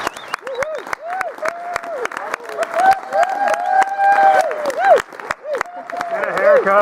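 An audience claps and cheers for a speaker at a Pecha Kucha event, steady applause with whoops and shouts rising over it, loud and close, and people calling out throughout.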